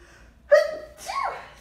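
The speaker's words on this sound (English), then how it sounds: "Oh, I gotta sneeze." A single sharp sneeze, close and loud, starting with an inhaled gasp and ending in a breathy burst.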